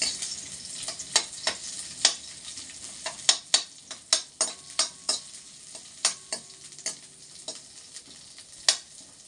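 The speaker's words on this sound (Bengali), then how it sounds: "পেঁয়াজটা একটু লাল করে ভাজো" Onions frying in a pan and being stirred, a steady sizzle with a dozen or so sharp spatula scrapes and knocks at an irregular rhythm, close by with no talking.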